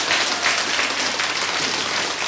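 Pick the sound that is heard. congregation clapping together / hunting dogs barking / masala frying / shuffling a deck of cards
congregation clapping together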